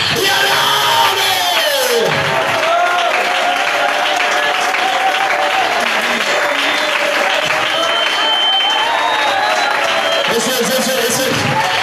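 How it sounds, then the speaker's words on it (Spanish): A Pentecostal church congregation breaks into loud, continuous applause mixed with shouts and cheering, with voices calling out over the clapping as the noise surges again near the end. "Suelte ese aplauso y alabe"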